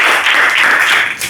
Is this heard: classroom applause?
yes